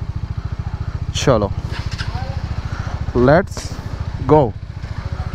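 Hero Xpulse 200 motorcycle engine running steadily, a loud close-up low pulsing idle throughout while someone speaks briefly over it.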